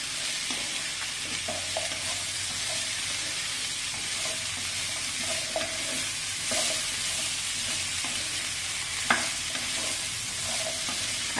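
Chopped vegetables and onion frying in a pan for South Indian sambar, a steady sizzle and hiss with repeated scraping stir strokes throughout, close and alone with no talk.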